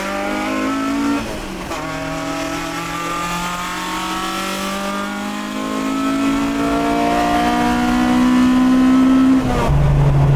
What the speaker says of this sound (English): drive against the wall with the window down just so I can hear the ITBs banging off the wall